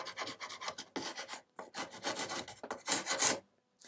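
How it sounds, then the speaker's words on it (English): Hand scraper rasping dried glue off a glued joint between wooden boards on a rustic wooden chest, in close, rough strokes separated by brief pauses. "So I'll just use a scraper to clean all this excess stuff off."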